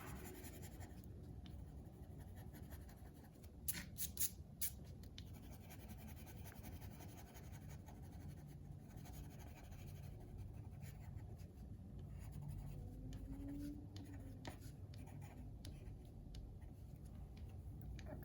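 A watercolor colored pencil scribbles on paper with a faint, steady scratching and short ticking strokes close to the microphone, under a low background hum with no speech.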